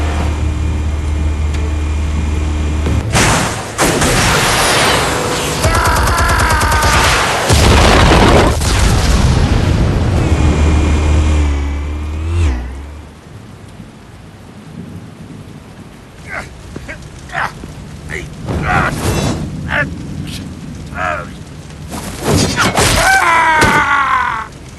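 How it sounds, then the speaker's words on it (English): Explosive charges detonate in the Batman: The Telltale Series game, a series of loud, heavy booms and rumbling blasts with crackling debris that fill the first half, then fade into quieter scattered impacts and a final burst. "Explosives armed. Fire when ready."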